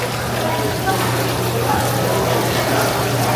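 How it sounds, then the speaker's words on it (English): A steady rushing hiss of falling water from a decorative waterfall at a hotel restaurant in downtown Miami, continuous and fairly loud, with a low hum underneath. "It's a Lovely waterfall."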